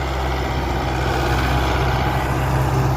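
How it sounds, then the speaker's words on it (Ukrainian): An MTZ-82 tractor engine pulling a Vega Profi seeder sowing sunflowers drones steadily and loudly, a constant low rumble with no breaks, heard from close by. "Сівалка Vega Profi, трактор МТЗ-82."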